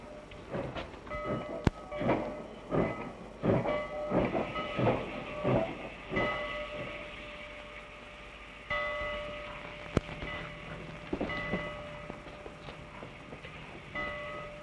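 A steam train rolls into a station in a 1951 Western film, with rhythmic clacking over the rails, then slows as a steady hiss of steam rises and lingers.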